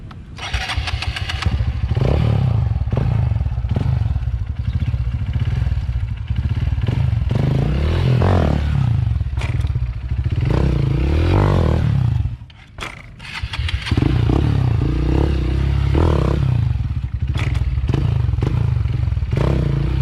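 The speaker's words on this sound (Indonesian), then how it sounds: "kita angkat motor dan di rem, jadi biar kaki kita itu refleks" Motorcycle engine running close by during riding practice as the bike is lifted and braked, a steady loud drone with a brief drop in level partway through.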